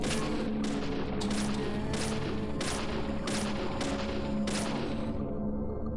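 Gunshots ring out in the horror game Deadly Premonition on Xbox 360: about seven sharp, evenly spaced shots over a steady loud background rumble, close and punchy.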